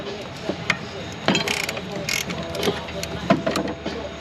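Ratchet breaking loose a 17 mm banjo bolt on an oil pan, a few sharp clicks and a louder burst of pawl clicking in a workshop, with faint background noise.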